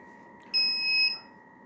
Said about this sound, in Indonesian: buzzernya dimatikan dulu deh, terlalu berisik